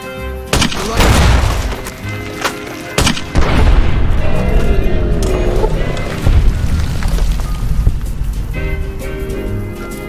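A grenade explodes in the video game Fallout New Vegas with a loud, deep boom. Sharp impact thuds come before the blast, and a rumbling tail and game sounds follow it.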